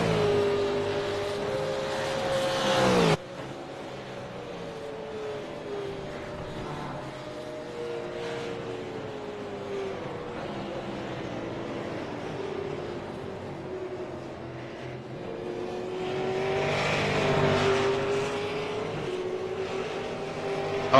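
Race cars lapping a racetrack, engine tones rising and falling as cars pass at a distance, a steady drone with a louder car sweeping by at the start and again near the end.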